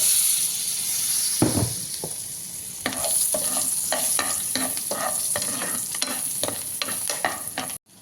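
Hot oil sizzles and hisses steadily in a pan while frying, loud and close, with scattered scraping stirs breaking through the constant crackle.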